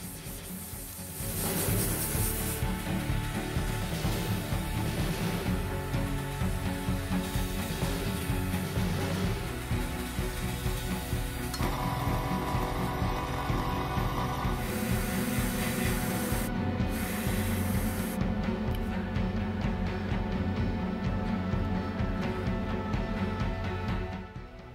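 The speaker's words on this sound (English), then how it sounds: "then dried off with an airbrush" An airbrush blows air over rubber tyres on a 1/32 Trumpeter Curtiss P-40M Warhawk model kit after they are cleaned with isopropyl alcohol, making a steady, close hissing rush that runs almost unbroken for about twenty seconds.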